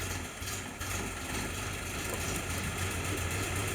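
An M38A1 jeep engine runs on full choke, a steady low idling drone with a faint vibration, holding constant at close range throughout with no voices.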